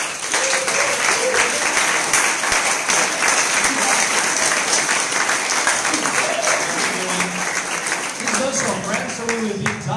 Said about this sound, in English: So, warm applause to Daniele